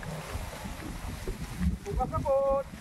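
A motorboat engine drones steadily on the water, a low continuous rumble mixed with wind buffeting the microphone, while a voice speaks over it and a few tonal whistles sound near the end.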